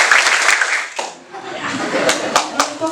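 Schoolchildren at a Jakarta school literacy event clap together in a counted pattern, sharp group claps landing in short bursts with brief gaps, mixed with children's voices and talk.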